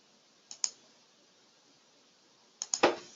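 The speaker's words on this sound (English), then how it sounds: "Now what I'm going to do is that I'm going to right click" Crisp computer mouse clicks from a right click, a quick pair and then a short cluster of three near the end, close and quiet with no talking.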